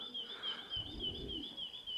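Racing pigeons coming in to their loft call with a steady, wavering chirp that runs the full two seconds, over a soft low rumble that swells midway.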